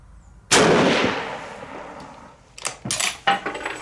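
A single loud, sharp report from a military bolt-action rifle fired at a 100-yard range, its boom decaying over about two seconds, followed by several metallic clacks and rattles as the action is worked.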